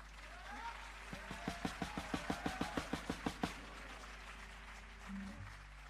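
Audience clapping at a Schoolwave traditional music performance at SNFCC: a short run of rhythmic, evenly spaced claps builds and then fades, heard over a low steady hum.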